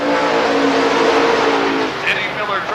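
Race cars roar around the Rockford Speedway short track, a loud continuous engine drone that fades slightly near the end. An announcer talks over it.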